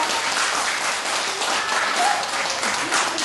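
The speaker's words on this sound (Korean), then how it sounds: "박수 한번 쳐주세요" Audience clapping during a lecture, a steady moderate round of applause lasting a few seconds with faint voices mixed in.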